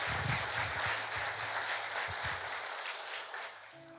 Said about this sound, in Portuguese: Então aplaude o Senhor Jesus.